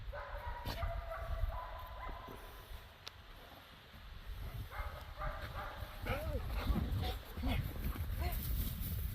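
A dog yipping and whimpering outdoors in sand beside a homemade electric fence, with short high cries and yelps scattered through, amid people talking and wind rumble.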